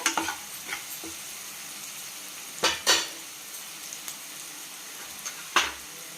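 Vegetable Manchurian frying in a pan, a quiet low sizzle under a handful of sharp spoon scrapes and knocks against the pan.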